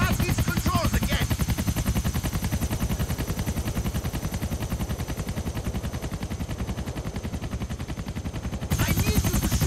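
An Air Crane helicopter in the game GTA The Ballad of Gay Tony, its rotor beating in a fast, steady, loud chop that pulses evenly throughout.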